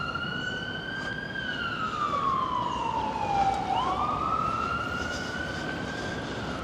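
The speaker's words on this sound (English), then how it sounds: "You can hear police sirens going off there." A single police siren sweeps slowly down and back up in pitch, moderately distant, over a steady hum of downtown street noise in Playa del Carmen, Mexico, with no talking.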